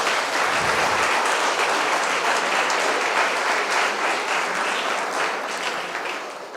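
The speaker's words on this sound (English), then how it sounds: "Guys, a huge round of applause for Phil." A live audience at the IBC Alt Hack event in Vizag gives a guest a big round of applause. The thick clapping is sustained and loud, then thins and fades slightly toward the end.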